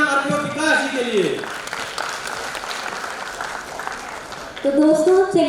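Audience applause at a 75th corporate day diamond jubilee celebration, a sustained round of clapping filling the middle of the clip, with a person speaking over a microphone before and after it.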